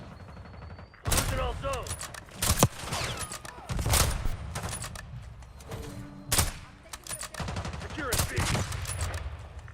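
Gunfire in the video game Call of Duty Black Ops 6, sharp individual shots and short bursts scattered through the clip, mixed with game announcer lines and players talking.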